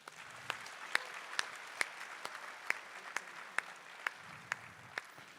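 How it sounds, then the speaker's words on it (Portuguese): A Catholic congregation at Mass gives sparse, slow applause, with individual hand claps spaced about half a second apart over faint room noise. "Quantos aqui creem podem aplaudir."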